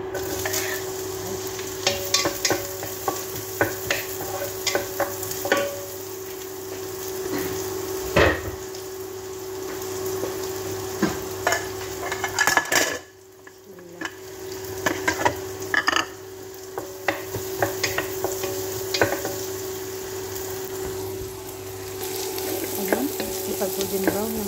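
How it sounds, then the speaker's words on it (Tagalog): Chopped white onion sizzles steadily in a hot pan for a long stretch, with scraping and stirring clatter from a utensil scattered throughout and a brief lull partway. "Ipag-golden brown na natin yung onion guys."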